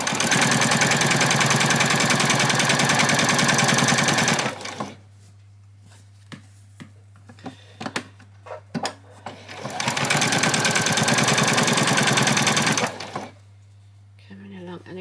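A sewing machine stitches apron fabric in two loud, steady bursts of fast rhythmic whirring, separated by a quieter stretch with a low hum, soft handling clicks and a person talking.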